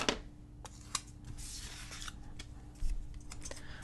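Scissors snip off a clear piece of a planner page, giving a few quiet, close crisp cuts and paper rustles at a low level.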